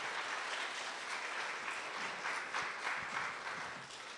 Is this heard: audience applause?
yes